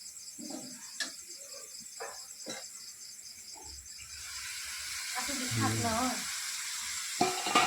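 Chicken leg pieces fry in a pan over a wood-fired stove, a soft crackling sizzle with scattered pops and stirring scrapes, growing louder toward the end, with a voice speaking faintly in the background.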